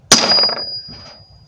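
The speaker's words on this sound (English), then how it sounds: "Now we're going to take our punch and our hammer, We're going to punch each one of these little spots." One sharp, ringing hammer blow on a steel punch while making a stove ring, a loud metallic clang with a bright tone that decays quickly, followed by a faint knock.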